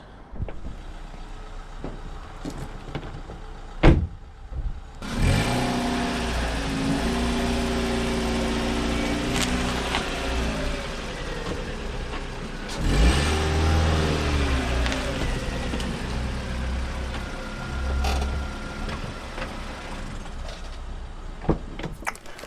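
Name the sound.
car running over a packaged book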